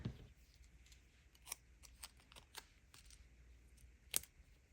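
Scissors snipping a paper planner sticker, a series of sharp, close, fairly faint cuts spaced irregularly with one crisper snip near the end, with no talking.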